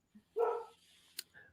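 A dog gives a single short bark followed by a faint whimper and a small yip, fairly close, in an otherwise quiet room.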